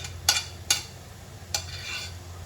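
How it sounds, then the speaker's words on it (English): Chopped shallots and garlic frying in a pan with a little oil, a soft steady sizzle under three sharp clinks of a utensil against the pan. "first you need to fry the shallots and the garlic that I chopped up"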